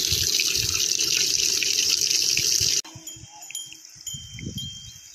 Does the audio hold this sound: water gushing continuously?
yes